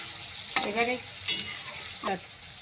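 Onion and tomato with a pinch of salt fry in a pan for a rohu fish mustard-poppy curry, with a steady close sizzle and three sharp scraping stirs of a spoon against the pan, no voices.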